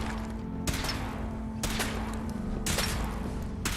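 Gunfire in the Fallout 4 video game, with three sharp broadband bursts spaced about a second apart over a steady low mechanical hum, set amid game background sound.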